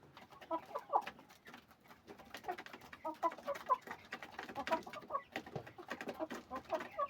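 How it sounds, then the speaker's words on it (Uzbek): Many high, thin peeps from small chicks chatter continuously, mixed with lower clucks from chickens nearby, busy and overlapping throughout. "Ular chiyillaydi. Haqiqiy jo'ja bular."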